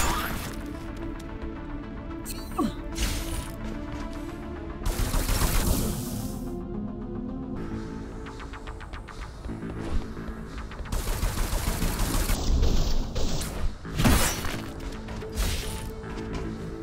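Machine gun fire in the video game Ghostrunner, heard inside a factory complex as repeated loud bursts and crashing impacts over a droning game soundtrack, with no talking.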